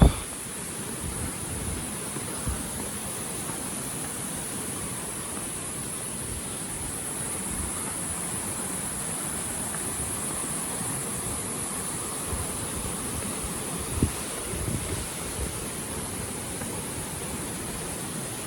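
A jungle waterfall on the slopes of Gede volcano in Indonesia gives a steady, broad rushing roar that fills the scene without a break, with a faint high insect drone layered on top.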